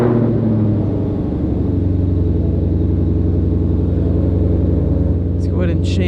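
A 2020 Ford GT500 engine starting up after an oil change, a loud, close, steady deep rumbling idle with throaty pulsing that holds throughout.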